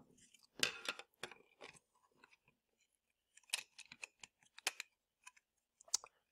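Sharp clicking snips and crunches of a tool cutting away part of a case around a volume knob, coming in close bursts separated by brief quiet gaps.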